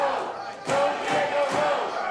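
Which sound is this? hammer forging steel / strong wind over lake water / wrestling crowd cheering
wrestling crowd cheering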